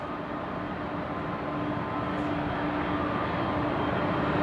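An airliner takes off at night at Brisbane Airport, its engines giving a steady, distant rumbling roar that builds slowly in loudness.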